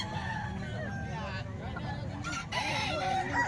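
A Golden Boy Sweater gamecock crows once at a live bird market in Calumpit, faint under crowd babble and someone talking nearby.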